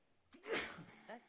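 A single sharp sneeze bursts out in the middle of a quiet board of adjustment zoning meeting, fairly close and loud against the low room tone, with a short vocal sound trailing just after it.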